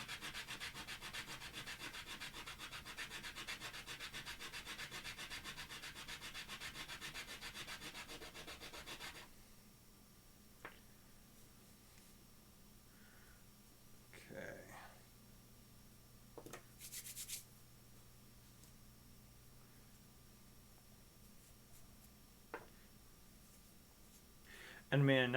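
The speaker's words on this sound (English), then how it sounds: "with this 80 grit, it should sand pretty quick." Steady, continuous rubbing of 80 grit sandpaper on a Good Guy doll mod part, loud and even for about nine seconds, then it stops; scattered faint knocks and handling noises follow in a quiet room.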